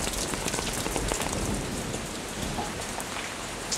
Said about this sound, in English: From the pounding drums of thunder to the beautiful chimes of rain